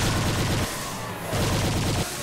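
A weapon fires in Inferno mode in Brutal Doom's Project Brutality mod, loud rapid bursts of continuous heavy fire in two long volleys separated by a short pause, with no talk.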